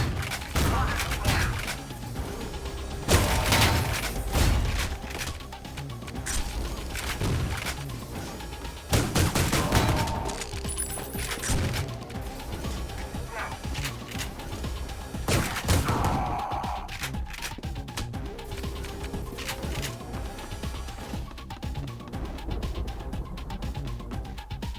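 Gunfire at a shooting range in the game Ion Fury cracks out in loud bursts of sharp shots spread across the whole stretch, mixed with game ambience and some scattered, less distinct sounds.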